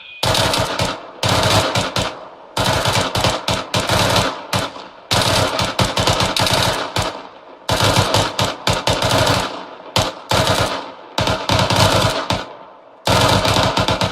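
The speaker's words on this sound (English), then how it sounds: "Suppressive fire." Suppressive machine gun fire in the Arma 3 video game comes in loud, close, sustained automatic bursts, each lasting a second or two and separated by brief pauses, with no talk over it.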